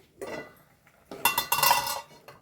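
A metal cooking pot lid is lifted off a simmering masala curry, giving a few close clanks and scrapes of metal on metal with a brief burst of louder clatter, and no talk.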